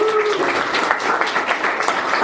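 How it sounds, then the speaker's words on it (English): A round of applause from a live audience at the Bunkers Hill Inn, steady, close clapping throughout the short stretch with faint voices underneath. "So big round of applause to Bunkers Hill, please."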